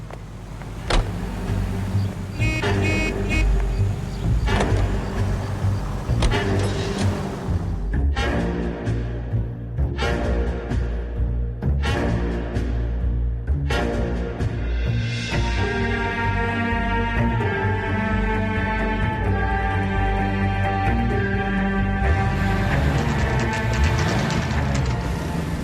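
A car being driven in the video game L.A. Noire, a steady engine drone with some bursts and clunks early on, then a smoother tonal hum, no talk.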